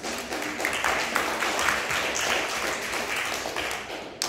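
Audience applause follows the second opposition speaker in the final round of a school debate competition. The steady clapping sounds somewhat distant and fills the hall evenly for several seconds.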